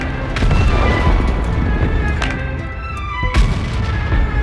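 Tank cannon fire in World of Tanks from a T49, with heavy booming shots, two sharper blasts standing out over a dense rumbling battle backdrop, loud and close.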